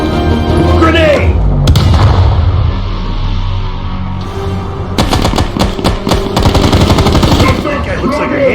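Grenade blasts and rapid gunfire from the Call of Duty Black Ops Cold War video game, a heavy boom early on followed by dense bursts of automatic fire, with voices shouting over the battle.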